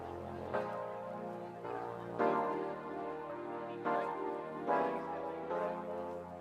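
A vintage-style musical sample treated with reverb, RC20 and Shaperbox ambience effects plays on its own, with chords swelling in repeated phrases and a soft wash of lo-fi ambience beneath them.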